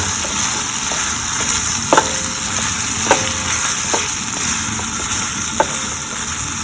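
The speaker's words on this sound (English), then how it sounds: "We have added oil, tomatoes, and onions." Tomatoes and onions frying in oil make a steady close sizzle, broken by a few sharp spoon taps from stirring.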